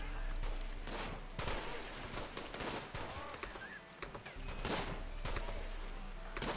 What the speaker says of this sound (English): Those are the triple missiles.